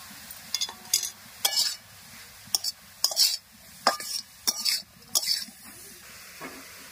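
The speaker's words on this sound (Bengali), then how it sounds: "গাজরটা ভালো করে ঘিয়ের মধ্যে ভেজে নিয়েছি।" Grated carrot frying in ghee for carrot halwa, stirred in a steady run of close scraping strokes that come in short bursts over a low, soft sizzle, with no talking.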